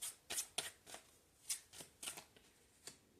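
Tarot cards shuffled and drawn from a deck, a quick run of crisp riffling snaps and soft slaps, close and fairly quiet, with no talk.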